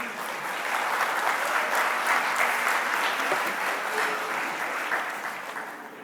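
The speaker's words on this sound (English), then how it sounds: "Let's have a round of applause for the OSI team." Audience applause at the National Gathering on Unmarked Burials in Montreal, a steady, dense clapping from a large crowd that holds at an even level for several seconds before easing slightly at the end.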